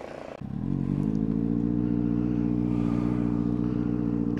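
A Benelli 600i motorcycle with a loud dual SC exhaust starts up and settles into a steady, throaty idle close to the microphone, a deep even burble with a slight mechanical clatter.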